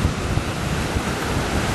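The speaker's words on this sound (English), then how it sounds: "Waves flowing." Ocean surf at a flat, calm beach, a steady broadband wash of waves mixed with strong wind buffeting the microphone, continuous and close with no voices.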